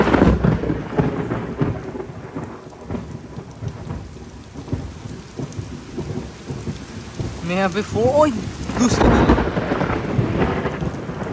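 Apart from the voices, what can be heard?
rain with thunder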